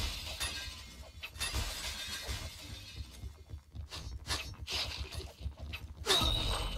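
Glass shattering in the game Point Blank, a burst of breaking panes with bright crashing debris, several loud impacts spread over a few seconds amid gunfire-like game noise.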